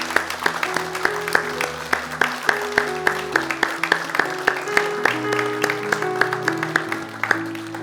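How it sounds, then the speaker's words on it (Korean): A standing church congregation at a Thanksgiving service gives sustained rhythmic applause, with dense steady clapping over tonal music and sustained organ-like chords. "우리 다 같이 자리에 일어나서 우리 하나님께 영광의 박수 올려드리도록 하겠습니다"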